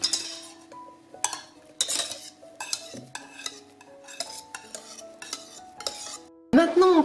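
A spoon stirs an agar-agar powder mixture in a saucepan for a vegan raclette-style cheese, with a series of close scraping strokes and light metallic clinks against the pan, ending in a louder clatter.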